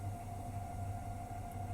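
A DB BR 140 electric locomotive in Train Sim World starts pulling away on a gradient, a low steady rumble with a sustained tonal hum, heard alone.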